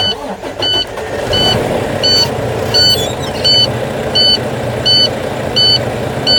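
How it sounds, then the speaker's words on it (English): A heavy diesel truck engine with air brakes cranks and catches in neutral, then settles into a loud, steady rumble while a dashboard alarm beeps in a regular repeating pattern. "Put on neutral, turn on the engine."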